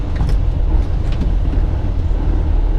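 Truck engine revving between clutch moves during a downshift from fifth to fourth gear before a right turn with a trailer: a steady, loud low rumble with no clear distinct rev peaks, and no talk.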